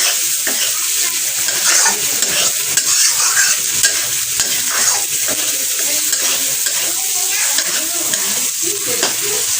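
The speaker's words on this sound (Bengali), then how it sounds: "চিংড়ি করছি আজকেও জানতে জানতে চিংড়ি এনেছে" Prawns with potato and taro sizzle steadily in a hot pan while being stirred, a continuous loud frying hiss broken by frequent scraping strokes of the spoon against the pan, with no talking.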